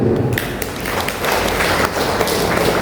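An audience at a farewell gathering breaks into applause, a dense, loud wash of many hands clapping together that holds steady throughout, with no voices over it.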